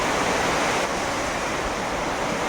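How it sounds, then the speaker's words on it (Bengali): Flood water rushing in over a submerged riverside landing, a steady, loud, broadband roar of flowing water heard alone, without pause. "ঘাট সব ডুবে গেছে মোটামুটি আর ওইখানে এতক্ষণ আমি জল ছেঁচে ছেঁচে বের করলাম এই দুই বান্ধিতে করে করে এখন আবার কি অবস্থা"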